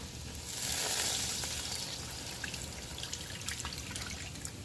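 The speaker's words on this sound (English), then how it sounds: "I'm going to now pour on my liquid." Liquid is poured into a slow cooker holding a recipe's ingredients. The pour is a steady, close, noisy splash with a faint trickle and drips toward the end.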